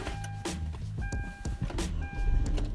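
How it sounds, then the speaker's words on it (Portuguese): A Hyundai i30 2.0 with a switchblade key starts up from inside the cabin, a steady low engine rumble building under faint tonal chimes through the short stretch, with no talking. "Vamos dar partida no carro aqui."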